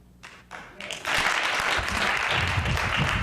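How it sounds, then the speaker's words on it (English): Audience applause at a Schertz city council meeting. It starts with a few scattered claps, then swells after about a second into loud, sustained clapping from many people in a large room. "Please hold your applause."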